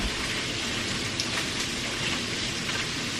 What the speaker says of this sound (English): You hear that meat going off?